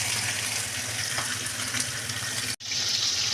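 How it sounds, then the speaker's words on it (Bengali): Taro stems stir-fry in a little oil, a continuous close crackling sizzle that cuts off abruptly for an instant before resuming. "নিয়ে আমি একটুখানি তেলে একটু নাড়িয়ে চালিয়ে নেবো, একটু হালকা হালকা করে ভাজা করে নেবো"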